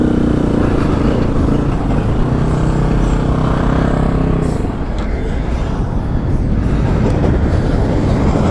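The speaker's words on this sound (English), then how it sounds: "I've never been able to watch a train actually like this before" A freight train rumbles past loudly and steadily, its heavy continuous roar filling the whole stretch with a faint rhythmic clatter of cars on the rails.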